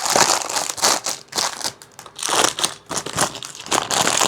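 Plastic packaging from a Miniso haul is opened close up, giving loud, irregular bursts of crinkling and crunching with brief lulls between handling.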